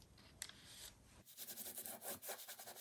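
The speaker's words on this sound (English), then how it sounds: "So I'll glue this on with my glue stick." A glue stick rubs across paper while a mixed media journaling tag is assembled, giving close, repeated scuffing strokes in a steady rhythm that begin partway through.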